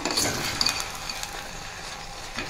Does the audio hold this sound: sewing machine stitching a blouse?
no